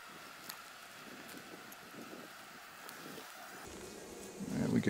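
Honey bees buzz softly around an open hive during queen introduction, a faint steady hum with light wind noise and a louder rustle near the end.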